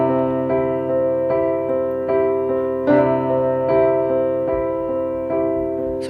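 A piano plays a repeated chord change, moving quickly from one chord to the next in a steady rhythm of struck, ringing chords. The playing is close and clear, with no voices.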